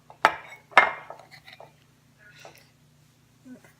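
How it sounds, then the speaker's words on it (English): Two sharp metallic clinks of a spoon being tapped and scraped against a container while scooping brown sugar body scrub, followed by softer faint scraping and small clicks. "Let's get that bit off the spoon"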